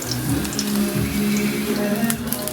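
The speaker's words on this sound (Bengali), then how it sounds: "এই তেলেই বেগুন ভাজা" Eggplant slices fry in hot oil in a home kitchen, giving a steady close crackling sizzle with scattered pops and no speech.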